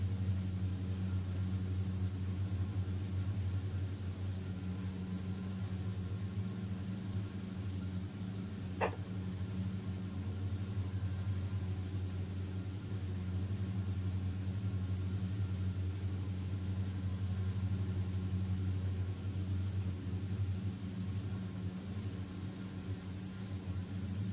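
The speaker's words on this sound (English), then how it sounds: "You hear those engines revving up and down just from how bumpy it is right now" The twin engines of a DA-42 in a flight simulator drone steadily through a bumpy approach in the Izu Islands, a low, continuous hum with a single faint click partway through.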